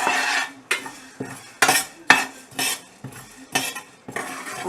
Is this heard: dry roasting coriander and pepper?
yes